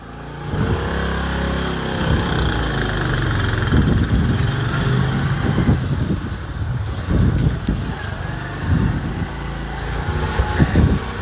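A motorcycle engine runs steadily at idle outdoors on a hill path with steps, a continuous loud rumble with faint voices intermittently underneath.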